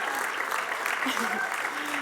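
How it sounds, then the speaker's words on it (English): Applause at an awards ceremony honouring inductees gathered on stage, a continuous bed of clapping from the crowd with brief voices and cheers rising through it. "I feel like that deserves a big round of applause"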